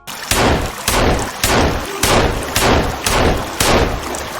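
Guns firing at mutants in Sons of the Forest, heard as a steady series of loud, evenly spaced heavy shots, about one every half second, standing alone without talk.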